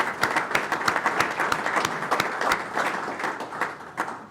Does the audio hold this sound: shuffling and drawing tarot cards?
no